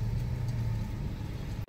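A car engine idles in a steady low rumble while the vehicle is eased into a tight parking spot, fairly close and continuous with no voices.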